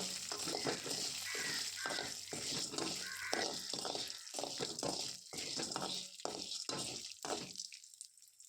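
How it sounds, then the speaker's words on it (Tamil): Urad dal roasts in a pan with a fine, busy sizzle and crackle broken by repeated scrapes and stirs, and the sound cuts off near the end. "உளுந்து வந்து நல்லா கலர் மாறி வர வரைக்கும் நம்ம வந்து வறுத்து எடுத்துக்கலாம்"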